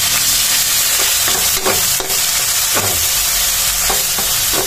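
Argentina corned beef fries with browned onion and garlic, a loud constant sizzle broken by several spoon strokes scraping and stirring the pan up close, with no speech.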